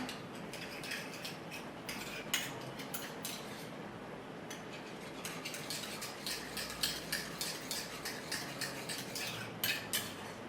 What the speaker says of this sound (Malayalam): ഇട്ടതിന് ശേഷം ഇത് രണ്ടും കൂടി നന്നായിട്ട് നമുക്കൊന്ന് മിക്സ് ചെയ്യാം